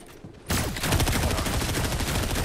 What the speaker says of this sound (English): What the fuck is he shooting me with? Overclocked post rifle.